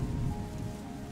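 Steady rain from the video game Terra Nil, a soft, continuous hiss and patter with no breaks across the brief moment.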